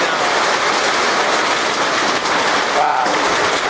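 Wind-driven hail and heavy rain from a supercell thunderstorm blowing straight in, a loud, steady, dense roar of pelting that fills the whole span without letup, with faint voices barely surfacing.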